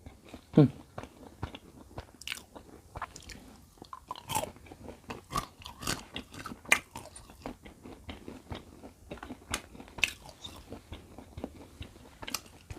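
Someone bites and chews crunchy dried fruit, steady close-up crackling crunches repeating in an irregular rhythm, with brief softer pauses between bites and no talking.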